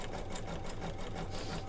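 A home embroidery machine stitches out a thick felt coaster in the hoop, giving a steady, loud, rapid mechanical whir with even needle-strike pulses and no speech.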